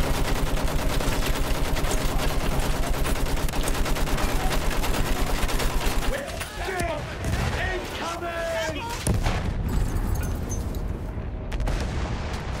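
Rapid sustained machine-gun fire rattles in the World War One shooter Battlefield 1, then gives way to scattered shots, booms and shouting voices amid the battle din.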